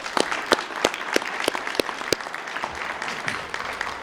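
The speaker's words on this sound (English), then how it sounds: "How about another round of applause?" Audience at a high school World Language Honor Society ceremony clapping, a moderate, steady round of applause with a few sharp close claps standing out, brief and unaccompanied by cheering.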